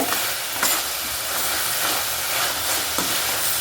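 Onion stalks and spices sautéing in a pan for dal make a steady, close frying sizzle throughout, with occasional clinks of stirring on the pan.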